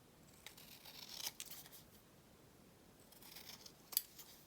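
Scissors trimming paper for handmade book page pockets, a few quiet snipping cuts spaced out over a faint background, with one sharper snip near the end; no talking.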